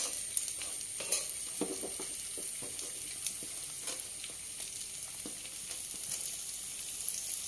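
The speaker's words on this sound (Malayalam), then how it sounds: "വെളിച്ചെണ്ണ ഒന്ന് നന്നായിട്ടൊന്ന് ചൂടായി വരുമ്പം അതിലേക്ക് വെളുത്തുള്ളി ഇഞ്ചിയും കൂടെ ചതച്ചത്" Crushed garlic and ginger frying in hot coconut oil for a Kerala-style prawn roast, a steady, moderately close sizzle with scattered scraping of a spatula being stirred through the pan.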